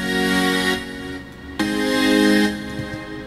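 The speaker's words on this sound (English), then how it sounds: "Alright, so we're going to start with the Supersaw." Supersaw synth patch in NI Massive, a thick detuned sawtooth chord sounding alone and loud, held for under a second, a short gap, then a second sustained chord that fades out.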